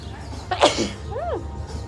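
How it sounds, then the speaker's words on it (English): A single sharp sneeze bursts out over quiet background, followed by a brief rising-and-falling vocal sound. "I feel like I have to sneeze"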